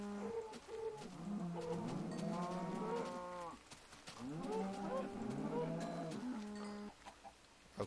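Blocky cattle in Minecraft moo repeatedly in long, harmonic, drawn-out calls that overlap one another, with a faint cluck from a chicken somewhere among them and no talking.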